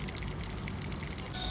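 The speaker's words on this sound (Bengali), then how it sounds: "একটুখানি সামান্য তেল দেবো" A little cooking oil trickles into a pan while prawn and potato-tomato dishes are under way, a soft continuous liquid pour with faint dripping, quiet and close, without any talk.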